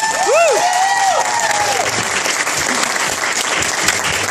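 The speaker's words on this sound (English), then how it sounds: "that deserves another round of applause" An audience at a product training and testimonial event bursts into loud, sustained applause, with a brief whistle-like voice rising over the clapping at the start before it settles into steady clapping.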